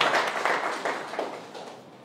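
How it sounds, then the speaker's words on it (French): A crowd applauds loudly and steadily at an information session on presidential initiatives, dense clapping that fades slightly toward the end. "je voudrais que vous puissiez applaudir très fortement pour encourager nos forces de défense et de sécurité"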